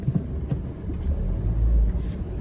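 City traffic idles and creeps forward in a lengthening queue at a long red light, a low steady engine rumble with a few faint passing noises and no talk.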